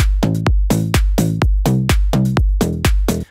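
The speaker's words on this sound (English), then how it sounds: "that's exactly what makes a slap house bass a slap house bass." Slap house synth bass with a bright, overly digital wave filtered down, playing a punchy rhythmic pattern of short pumping stabs with deep low end, loud and alone without any voice.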